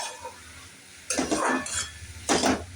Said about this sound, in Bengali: একটু লাউটাও একটুখানি ডালের সঙ্গে একটু নেড়ে নিচ্ছে।